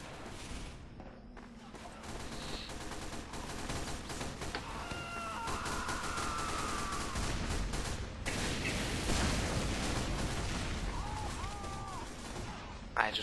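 Team Fortress 2 soldier gameplay with rocket explosions and gunfire, a dense, continuous stretch of loud blasts and bangs that ends in a sharp final burst, with faint game voices mixed in.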